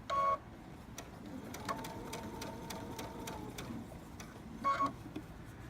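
A sewing machine top stitching fabric runs at a steady, rhythmic pace for a few seconds, close and moderately quiet. Brief higher electronic beeps come at the start and end.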